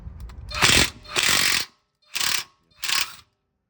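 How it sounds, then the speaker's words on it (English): A Ridgid mid-torque impact wrench loosening an 18 mm sway bar bolt on a Mercedes GL450, four loud close bursts of rapid hammering, the first two longer and the last two short, with no talking. "I'm actually testing my new rigid mid torque impact"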